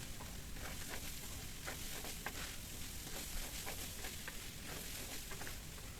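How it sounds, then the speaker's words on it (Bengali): Ginger and garlic paste fries in a pan, a steady close sizzle with occasional soft crackles and stirring scrapes, heard alone. "এভাবে প্রায় আরও কিছুক্ষণ ভেজে নেব।"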